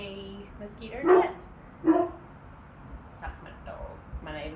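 A neighbour's dog barks outdoors: two loud, sharp barks a moment apart, followed by fainter yips and whimpers, with a person talking nearby.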